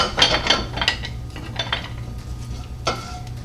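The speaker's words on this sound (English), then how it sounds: "And just kind of mix that all together." A spoon stirring baked beans and ketchup in a cooking pot, with several scraping clinks against the metal over a steady low background hum, near and fairly loud, no voices.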